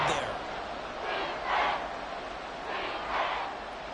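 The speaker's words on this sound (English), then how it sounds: "The Arrowhead crowd in full roar" The crowd at Arrowhead Stadium roars during a football game, a broad distant swell that rises and falls in several surges over a few seconds, with no clear speech on top.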